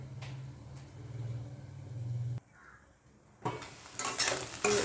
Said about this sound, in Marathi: छान मिक्स करून घ्यायचं आहे आपल्याला.